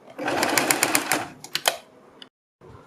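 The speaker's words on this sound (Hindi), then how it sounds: "ये सिलाई हमें यहाँ से थोड़ा सा नीचे तक लगानी है। इस तरह से लगा के हमें इसको थोड़ा सा पक्का कर देना है।" A sewing machine runs in a rapid, steady stitching burst as it sews fabric for a kurti neckline, stopping briefly, then starting again, close and clear with no talking.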